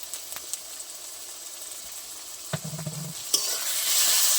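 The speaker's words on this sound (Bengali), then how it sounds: "এগুলো ভালো করে একসাথে আমি মিক্স করে নেবো, যত সময় না টমেটোটা ভালো করে গলে যাচ্ছে।" Tomato with salt and turmeric being stirred in a frying pan, a soft scrape and brief sizzle around the middle over a steady faint hiss of oil, close and alone.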